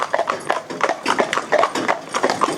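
Hooves of a big horse and a little pony driven together as a pair clip-clop in a fast, close, steady rhythm on a hard surface, loud and continuous.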